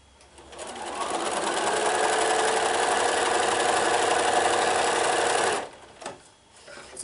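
Sewing machine stitching background triangles onto a gold triangle for a quilt block, a loud, steady whirring hum running for several seconds before stopping abruptly, followed by faint handling noises.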